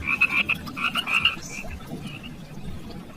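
Close frog croaking in quick bursts of bright, raspy calls, with a dense run in the first second and a half, then fainter scattered croaks over a low background hum.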